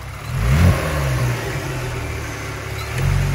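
A Kia Stinger GT's engine revs sharply as the throttle is tapped quickly, rising to a brief peak, then settles into a steady near idle before a second swell near the end, with no voices.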